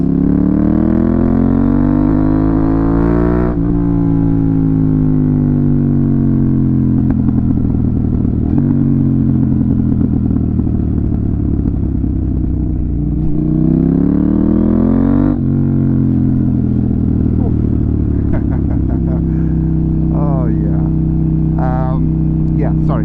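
A KTM Duke 890R with an SC Project exhaust running loud and close, its engine note climbing and dropping through several revs and gear changes with throaty grunt, plus a few clattering mechanical sounds.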